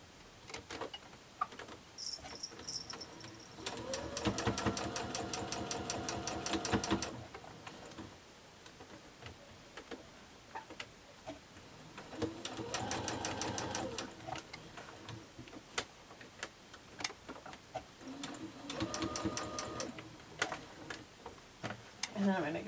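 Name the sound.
sewing machine stitching nested quilt seams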